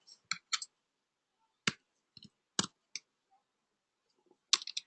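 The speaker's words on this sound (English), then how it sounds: "I'm typing here." Keystrokes on a computer keyboard, sounding as sharp, sparse clicks in short bursts and single taps separated by silence, close and fairly quiet.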